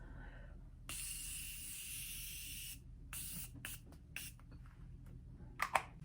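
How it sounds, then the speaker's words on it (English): Morphe Continuous Setting Mist sprayed onto a made-up face: one long airy hiss of about two seconds, then a few quick, shorter spritzes, close and fairly soft in a quiet room. "today I am gonna set my face with the Morphe Continuous Setting Mist. I'm just gonna do a light little spritz."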